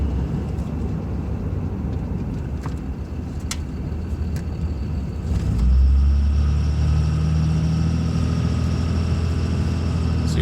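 A 3rd gen Dodge Ram pickup driving, heard from inside the cab as a steady low engine drone and road rumble that grows slightly louder and deeper around the midpoint and holds there.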